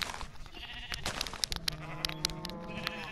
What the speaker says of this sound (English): Let's get all these sheep.